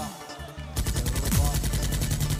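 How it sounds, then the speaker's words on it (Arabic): Live gunfire at an Arab dahiyeh wedding celebration, rapid automatic bursts rattling continuously over loud festive music after a quieter opening. "بكون مسموح إطلاق الرصاص الحي"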